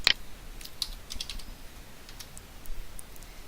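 Typing on a computer keyboard while entering a price into rental software: a short run of light, quick key clicks, fairly close and soft, with no talking.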